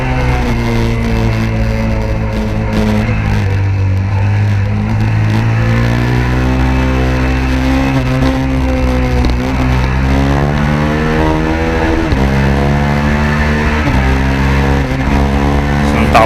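A minitwin racing motorcycle at Oulton Park on track, its engine loud and close throughout, revving up and down with steady harmonic pitch sweeps as the throttle opens and dips, with talk over it.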